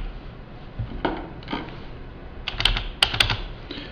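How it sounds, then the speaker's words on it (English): Keys tapped on a computer keyboard while entering a username and password at a login page, with several scattered, uneven bursts of close clicks and short pauses between them; no one speaks. "On the right hand side, click on Login and enter your sales agent username and password."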